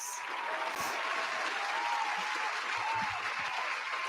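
A dense, steady applause sound effect of many clapping hands, loud and continuous, with no gaps for the whole stretch.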